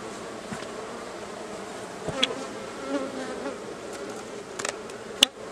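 Honeybees swarm around an opened beehive during colony splitting, a steady close buzz with occasional sharper passes and clicks, no talk.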